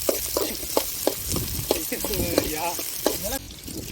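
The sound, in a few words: onions being sautéed and stirred in oil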